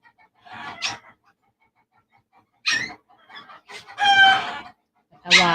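Backyard chickens call in short bursts, mixing clucks with rooster crowing. The calls come close and fairly loud and are spaced out by quiet gaps.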